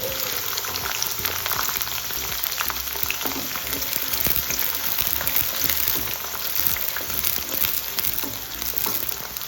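Garlic and small shallots fry with fenugreek seeds in hot oil, giving a dense, even crackling sizzle that runs unbroken and close, with no voices.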